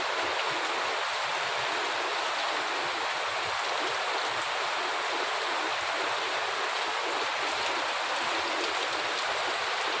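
Heavy rain pours steadily outside a home, a dense, even hiss of falling water that continues unbroken and fairly loud throughout, with no voices.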